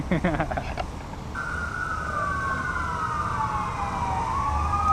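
An ambulance siren wails steadily, sweeping up and down in pitch, loud and fairly close over traffic rumble, after a few brief voiced sounds at the start.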